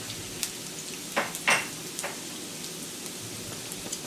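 Sliced zucchini and onion in a stir fry give off a steady soft sizzle, with a few brief louder spits and scrapes of stirring, fairly quiet and without talk.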